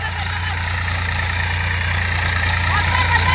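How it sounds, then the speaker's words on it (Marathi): A tractor engine idles steadily outdoors with a continuous low rumble throughout, with faint voices in the background. "ट्रॅक्टर बंद कर"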